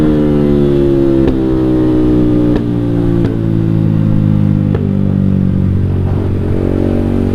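A motorcycle fitted with a JB159 trioval exhaust drones loudly and steadily up close, its deep throaty tone sliding slightly in pitch, with faint mechanical clicks along the way.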